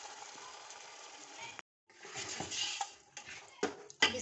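Biryani masala being stirred into a pot of yogurt mixture for Bombay biryani, with close scraping and clinking of a spoon against the pot in irregular bursts and a short quiet gap partway through.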